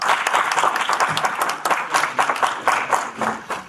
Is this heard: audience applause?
yes